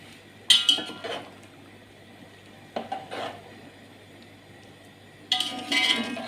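A spoon scrapes and clinks against a pot while stirring melted sugar and carrots for gajar ka muraba, three short bursts of clatter separated by quiet stretches, close and fairly soft.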